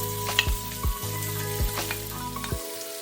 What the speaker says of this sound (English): Next, it's time to fry the sweet peppers and the onions.